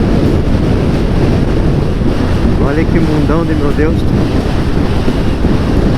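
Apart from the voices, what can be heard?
strong wind on motorcycle helmet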